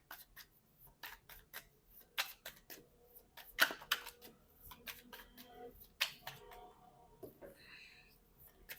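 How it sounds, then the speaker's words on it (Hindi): Tarot cards are shuffled by hand in a quiet room, giving soft, irregular riffles and taps that come and go at close range. "अच्छे से मैं शफल कर लेती हूँ कार्ड्स को"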